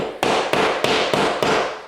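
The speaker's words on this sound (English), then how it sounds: "we're just gonna hammer in every one of these things" A hammer drives popped nails back into drywall in five sharp, evenly spaced blows, loud and close, with no talking.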